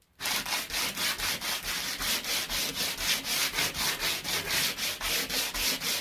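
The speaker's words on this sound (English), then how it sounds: "we're going to start by sanding this frame." Steady rhythmic sanding on a wooden panelled door frame, quick back-and-forth strokes repeating evenly and close by, with no voices.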